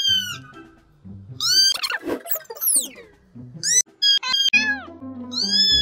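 Cats meow repeatedly and close up, high rising and falling cries overlapping at times, with short pauses between calls.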